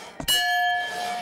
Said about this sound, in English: If the bell rings, you win a prize.